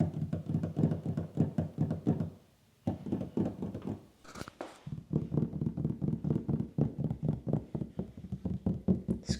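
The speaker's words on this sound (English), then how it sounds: "You can just hear it when you tap the doors." Knuckle taps on the sound-deadened doors of a Toyota Tacoma, a run of dull, muffled knocks in quick rhythmic bursts, close and alone, pausing briefly twice before resuming.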